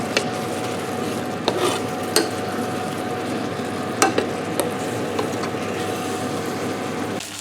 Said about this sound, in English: I've added the rice, and now I've added the stock, and I'm giving that a good stir